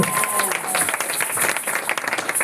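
Church congregation applauding in worship during an anniversary closing prayer, a dense steady wash of clapping across the whole moment with voices mixed in.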